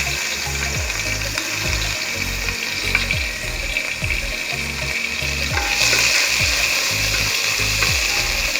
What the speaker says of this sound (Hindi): अब इसमें थोड़ा सा लहसुन अदरक का पेस्ट डालेंगे।